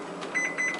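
A microwave oven running, its low electrical hum steady under a faint high whine, with a couple of brief tonal beeps partway through; no voices.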